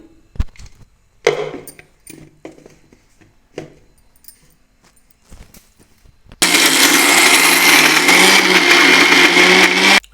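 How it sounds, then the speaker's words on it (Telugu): Scattered knocks and clatters of lids and jars come first; then a kitchen mixer grinder roars loudly and steadily, grinding curry leaf chutney with tomatoes, tamarind and salt. "మిక్సీ పట్టుకోవాలి"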